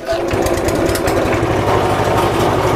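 An electric grinding machine running continuously as it grinds dried chili for a stored sambal, a loud steady motor whir with rattling, with no voices over it.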